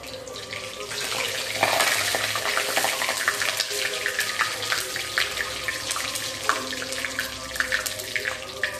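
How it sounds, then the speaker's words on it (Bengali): Whole garam masala, dry red chillies and cumin seeds crackle in hot oil, giving a steady, loud hiss with scattered pops and crackles throughout, close and alone with no voices. "এবার ফোড়নে দেবো আমি গোটা গরম মশলা, শুকনো লঙ্কা আর সাদা জিরা।"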